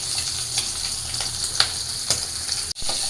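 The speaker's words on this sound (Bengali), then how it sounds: "তো হালকা একটু ভাজি, কারণ হালকা না ভাজলে পেটের ডিমগুলো বের হয়ে যাবে" Fish with roe frying lightly in oil in a pan: a steady close sizzle with small crackles and pops, broken by one brief dropout near the end.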